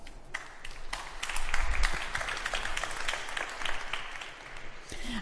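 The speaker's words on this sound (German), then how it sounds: "Applaus" An audience applauds at a German panel discussion event, dense clapping that swells to a peak and then holds steady, with some stray individual claps and faint voices.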